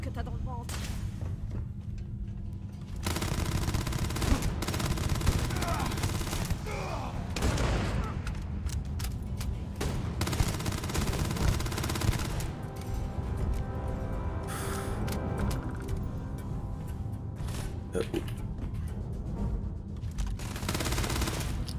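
Dense, sustained gunfire and explosions roar through a firefight in the video game Starfield, loud and continuous, with a voice talking over the shooting at times.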